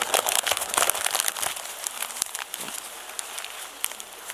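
Sheet of paper crumpled into a ball by hand, a dense crackling and crinkling that is loudest at the start and thins to scattered crunches.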